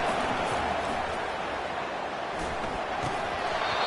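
Big football stadium crowd at an LSU game roars in a steady, far-off wash of cheering on a third down, while a voice speaks over it.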